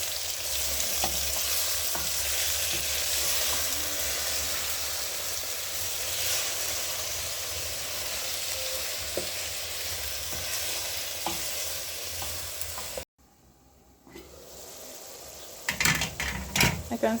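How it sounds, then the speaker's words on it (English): Tomatoes fry into a paste in a pan under a dense, continuous sizzle with occasional spoon scrapes. The sound cuts out briefly and then returns with clinks and stirring. "I will now add my tomatoes. Give them a good stir until they make a good paste."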